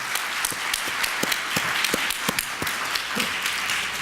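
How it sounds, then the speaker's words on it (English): Audience applause for the organiser at a 2015 conference with a guest speaker, a steady field of many hands clapping, with several sharp individual claps standing out nearby. "I think she deserves a round of applause"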